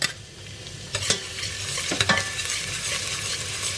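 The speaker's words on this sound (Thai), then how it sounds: "ใส่น้ำมันลงไปผัดกระเทียมผัดให้หอม" Garlic stir-fried in hot oil in a pan for Thai rad na with wide noodles and pork, a continuous close sizzle with a few scraping stirs of the spatula, no voices.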